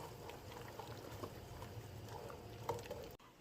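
Wine cooks down in a Dutch oven for pot roast with a soft, steady bubbling simmer and scattered small pops, faint and close, ending in a sudden cut.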